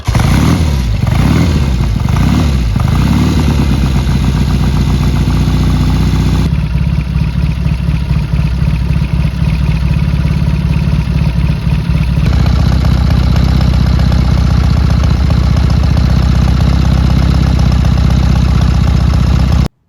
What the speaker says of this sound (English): make sure that everything's ready to go prior to starting the motorcycle.